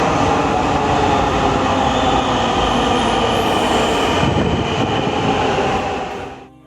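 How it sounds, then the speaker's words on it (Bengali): A metro rail train pulls into a station with a loud, steady rumble and wheel noise lasting several seconds, fading out at the end; no voices. "এই তো মেট্রো রেল এসে পড়লো"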